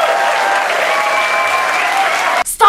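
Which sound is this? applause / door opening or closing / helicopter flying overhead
applause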